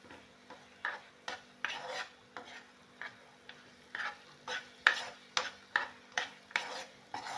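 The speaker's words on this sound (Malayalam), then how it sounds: "കുറച്ച് നേരം കൂടെ ഇങ്ങനെ ഒന്ന് ഇളക്കി ഇളക്കി" Dates halwa being stirred in a pan, a spoon scraping and rasping against the metal in steady repeated strokes roughly every half second, close and moderately loud with no talking.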